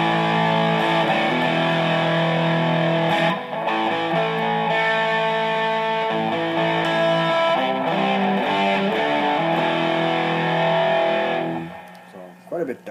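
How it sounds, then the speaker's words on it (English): Electric guitar played through a 1985 Proco Rat distortion pedal with the distortion set about three-quarters up, a thick, sustained, dark overdriven tone ringing loudly and continuously before cutting off near the end. "This time we'll bring the distortion up about 3/4 of the way."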